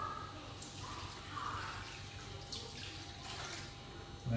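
Water pours and splashes softly from a tin into a wok, a faint steady trickle with light sizzling texture, ending with a short low knock.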